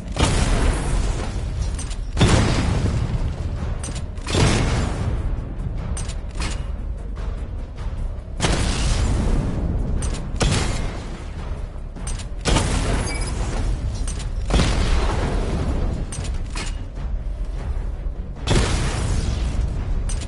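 Missile barrage explosions from a Batman video game hit as a series of heavy booms, roughly eight loud blasts spaced a couple of seconds apart, each trailing into rumbling debris.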